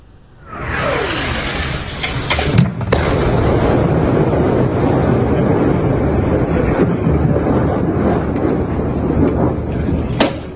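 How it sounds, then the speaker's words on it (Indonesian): A sudden loud blast from a military strike on a town in southern Lebanon, followed by a long, rumbling roar that keeps going, with a few sharp cracks and pops breaking through near the end. "Ledakan dan kepulan asap terlihat di langit kota Var Jos, Lebanon Selatan."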